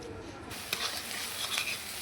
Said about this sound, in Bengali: পেঁয়াজ কুচি এবং রসুন কুচি এগুলো আমি ভাজতে দিয়েছি